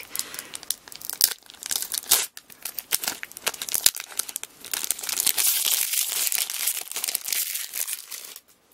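Pokémon card pack wrappers crinkle and crackle close up, a busy stream of rustling and crumpling bursts that swells louder and denser toward the end, with no talking.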